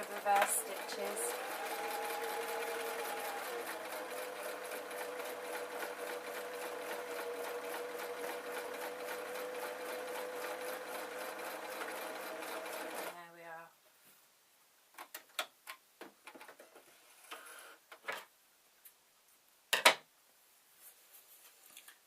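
A sewing machine running reverse stitches on a denim skirt, a loud steady rapid whir for about thirteen seconds, then stopping, followed by quiet handling clicks and rustles.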